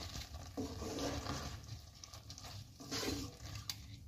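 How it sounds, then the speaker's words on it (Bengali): A spoon stirs gajar ka halwa, carrot pudding with fried cashews and raisins, in a pan, giving close wet scraping and soft sizzling in a few uneven strokes with no voices. "এবার আমি এটাকে আর একবার নাড়িয়ে দেব ভালো করে।"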